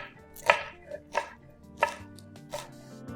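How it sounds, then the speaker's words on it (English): A knife chops baby spinach on a cutting board with about five distinct, crisp thuds at an uneven pace, close and clear, with no talking. "let's chop half a handful of baby spinach."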